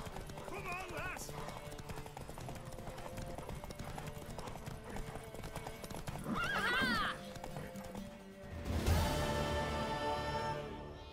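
Horse hooves clip-clopping in The Witcher 3, rhythmic clopping under voiced dialogue and game sound, with a whinny and a louder burst of action toward the end.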